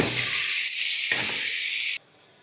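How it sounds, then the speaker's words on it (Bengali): Momos fry in hot oil in a pan on the stove, giving a loud, steady hiss and sizzle that stops sharply and drops to near quiet. "তো এটা আমি এখন দিয়ে দিব, কারণ চুলার তেলটা গরম হয়ে গেছে।"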